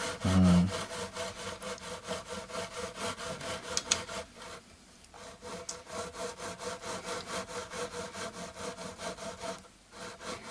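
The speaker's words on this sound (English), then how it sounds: "A lovely grinding sound, isn't it?" Close, steady rhythmic rasping of frets being ground back and forth during an Epiphone Les Paul refret, with a brief pause partway through before it resumes.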